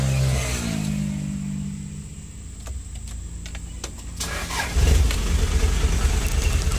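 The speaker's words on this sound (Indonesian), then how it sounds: "Oke, mesin sudah hidup." A car's starter cranks briefly before the engine fires near the end and settles into a steady, close idle rumble, heard while preparing to adjust the clutch.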